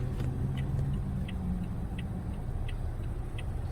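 Cars roll past on a suburban road in Brampton, a steady low rumble of traffic heard from inside a waiting vehicle, with faint regular ticking, like a turn signal, over it.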